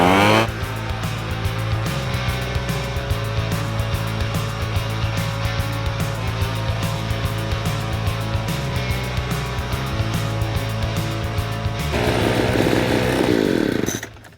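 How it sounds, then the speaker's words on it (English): A Craftsman B2000 gas leaf blower runs continuously at close range with a steady two-stroke engine drone, holding one speed for most of the time and revving up louder near the end. "Now here's what I like on this CRAFTSMAN leaf blower."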